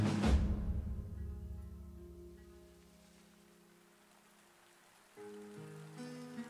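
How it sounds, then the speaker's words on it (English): Rainfall in the fantasy strategy game Warlords Battle Simulator, a steady hiss of rain with a sustained music-like drone and tones, loud at the start, fading mid-clip, then swelling again with layered game sounds. "Oh, it's raining."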